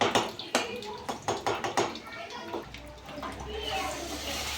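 Water pours into a cooking pan while instant Maggi noodles are being made, following a few sharp clinks of utensils against the pan; the pour is a steady, moderately loud hiss that fills the second half.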